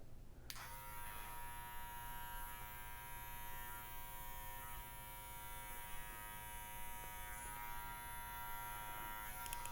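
Electric hair clippers buzz steadily during a bald fade haircut, held close with a constant high-pitched whine and steady hum that runs throughout without pause.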